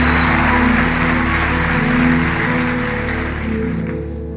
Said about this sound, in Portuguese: Aí aplauda Jesus